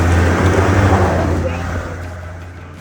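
A Land Rover Defender 130 engine drones steadily in low gear while crawling up an off-road hill, a close, continuous low rumble that fades slightly toward the end.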